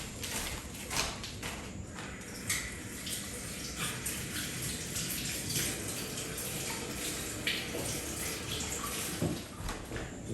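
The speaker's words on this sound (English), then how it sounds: "let me rinse my tool off." A paint tool being rinsed in water, a continuous close splashing and swishing with scattered small knocks against a container, fairly quiet throughout.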